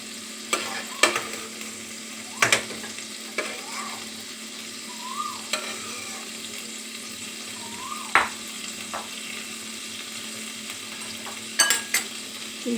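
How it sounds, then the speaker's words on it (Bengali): Shrimp fry gently in oil over low heat, a soft constant sizzle broken by occasional sharp clinks and scrapes of stirring, fairly quiet and close with no talking. "সেই জন্য একটু আঁচটাকে সিম করে নিয়ে চিংড়ি মাছটা ভাজবো"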